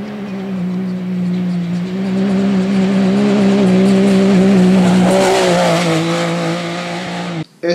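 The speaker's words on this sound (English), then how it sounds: "A 70 mile an hour flyby." A Can-Am Maverick X3 XRS side-by-side tears past at about 70 mph, its engine droning loud and close with a steady pitch that swells and shifts as it passes, ending abruptly.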